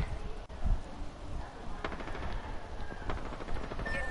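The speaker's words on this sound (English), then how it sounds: "Getting shot at." Rapid gunfire in the video game Fortnite, with bursts of automatic shots crackling through dense, busy game sound. Sharp repeated reports at moderate loudness fill the whole moment, with no pause in the background noise.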